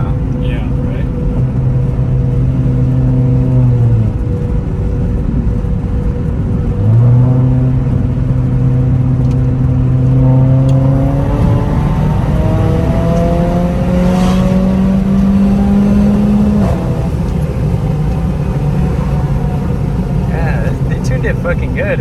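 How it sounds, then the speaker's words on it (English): Mercedes-AMG CLA 45 turbo engine pulling uphill from inside the cabin, the engine tone climbing through several gears with brief drops between shifts, while people talk over it. "hear the turbo fucking good now"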